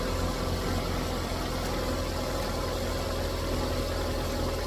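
A Perodua Myvi car's engine running again after a blown 15A EFI fuse was fixed, a steady, low, continuous idle hum with faint vibration and no voices.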